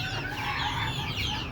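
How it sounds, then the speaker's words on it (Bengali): Meat chickens kept in a rooftop coop cluck and cackle together in a brief, busy chorus, close and moderately loud, with no talking. "এই যে দেখেন এগুলো সবগুলা মাংসের মুরগি"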